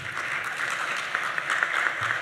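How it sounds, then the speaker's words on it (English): Steady audience applause after a panel session at a high-level regional convening, a continuous crowd of clapping hands at even moderate loudness. "Thank you for your round of applause for them."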